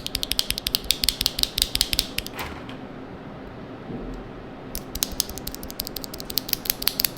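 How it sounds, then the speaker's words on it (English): Rapid clattering keystrokes on an EpoMaker TH80 mechanical keyboard fitted with yellow switches, dense and steady near the microphone, with a pause in the middle before the typing resumes. "Here's a sound comparison from this one to the yellow switches that came in the keyboard originally"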